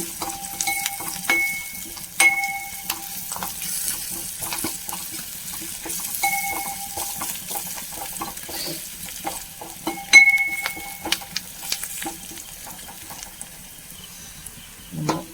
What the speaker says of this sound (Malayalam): അപ്പോൾ നമുക്ക് ഉള്ളിയൊക്കെ ഒരുവിധം മൂത്ത് വന്നപ്പോൾ നമുക്കൊരു സ്പൂണ് ചതച്ച മുളക് ഇട്ട് കൊടുക്കാം.